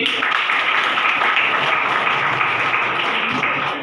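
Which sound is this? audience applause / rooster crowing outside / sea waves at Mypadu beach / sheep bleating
audience applause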